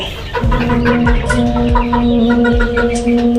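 Egyptian Fayoumi roosters cluck close by in a pen, several loud, overlapping throaty calls and rising squawks in quick succession.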